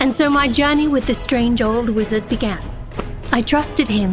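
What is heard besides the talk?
No everyday noises stand out.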